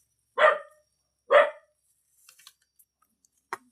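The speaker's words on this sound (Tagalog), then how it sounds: "Ingin na naman na itong aso" Two loud dog barks, close and about a second apart, followed by faint scattered clicks and knocks in an otherwise quiet room.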